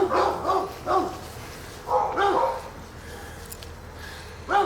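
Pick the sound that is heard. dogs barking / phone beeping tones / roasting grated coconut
dogs barking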